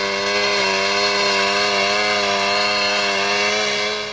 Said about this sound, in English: applies the chainsaw to an old tree on Wimbledon Common